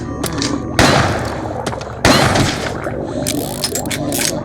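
Two heavy booming magnum revolver gunshots in the video game Crow Country, about a second apart, loud and close, each ringing out with a long rumbling tail, with no talking.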